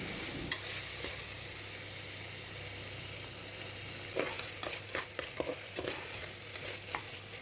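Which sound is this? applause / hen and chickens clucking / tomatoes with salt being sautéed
tomatoes with salt being sautéed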